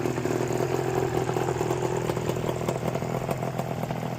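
A 379cc Yamaha Banshee two-stroke motorcycle engine runs steadily and loud at close range, a continuous buzzing drone with no talk over it.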